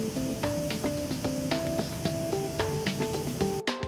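A steady hiss of a spray gun applying primer to a damaged plastic part runs throughout under rhythmic music, fairly constant in level, ending with a brief cutoff.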